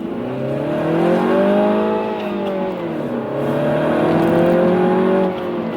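A Mini Cooper S F56 with a 2-litre turbocharged engine making 192 horsepower drones close by. Its pitch swells and dips through two rising revs, with no talking over it.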